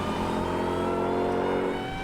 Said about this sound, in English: if you love the sound of a supercharger whine